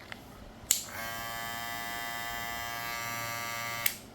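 A tiny hair clipper with a brushless motor spinning at around 7,000 RPM clicks on, holds a steady high-pitched electric whine for about three seconds, then clicks off.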